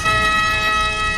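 A steady, continuous ambulance siren tone fills the whole moment, loud and sustained without pauses, with no talking.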